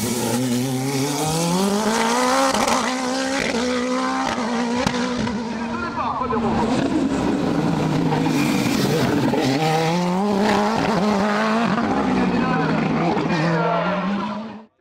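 A Nova Proto NP01 Turbo prototype race car climbs a hill-climb course, its engine holding a loud, continuous, rising and falling note through gear changes for the whole stretch, close and unbroken, with a commentator's voice running over it.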